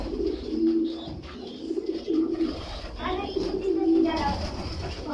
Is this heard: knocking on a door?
no